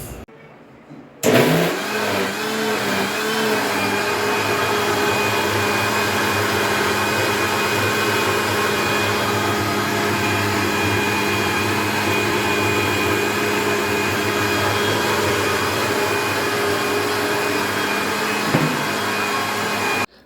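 A kitchen mixer grinder blending homemade juice switches on after a short quiet start and runs loud and steady, a continuous motor whine with churning underneath, stopping near the end; no talking.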